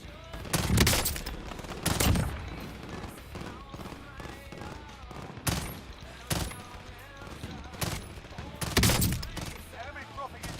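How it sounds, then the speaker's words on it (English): Burst rifle fire in an online shooter video game, heard as repeated loud bursts spread through the clip over a dense backdrop of constant game noise. "God, fuck this burst rifle."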